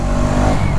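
Hero Karizma XMR 210 motorcycle engine pulls hard at full throttle, a loud, dense, continuous roar heard up close for a brief moment.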